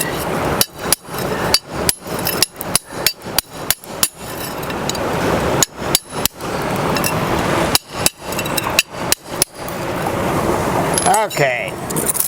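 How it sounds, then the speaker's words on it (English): A metal pry bar jabs and scrapes into tightly packed streambed gravel, giving repeated sharp clanking strikes in an irregular rhythm, close and fairly loud, with a short gap midway and a scraping rattle near the end. "take our bar and just try to loosen things up a little bit"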